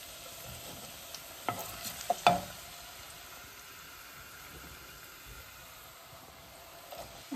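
Garlic and then onions drop into hot oil in a pan, producing a faint, steady frying hiss with a few soft clicks and small crackles scattered through, quiet and distant-sounding.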